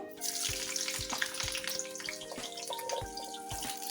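Cut drumstick pieces drop into hot oil with nigella seeds in a pan, a dense continuous sizzle with soft thuds and clinks of pieces landing, fairly quiet and close, no talking.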